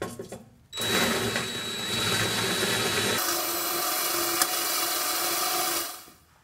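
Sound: drill countersinking holes

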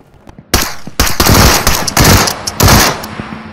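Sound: gunfire in video game Into the Radius

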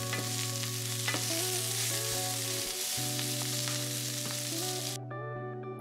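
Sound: sautéing and stirring kale and potatoes in a pan

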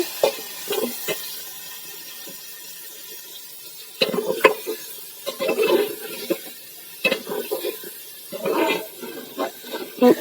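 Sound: ingredients frying in oil

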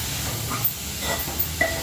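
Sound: chana dal frying in a pan

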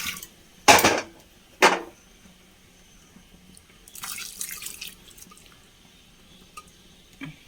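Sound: water being poured into sambar pot

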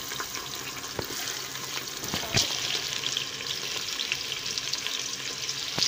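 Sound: onions being added and frying in oil

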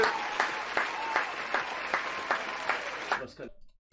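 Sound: applause

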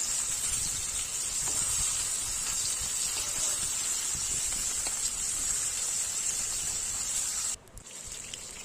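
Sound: tilapia fish frying in a pan

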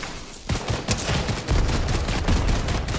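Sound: gunfire in a video game

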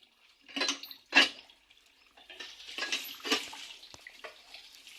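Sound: washing leafy greens in water

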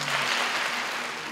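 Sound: audience applause

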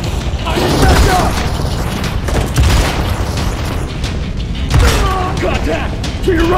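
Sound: gunfire in the video game Modern Combat 4: Zero Hour

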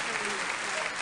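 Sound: crowd applause in the video game BattleBlock Theater

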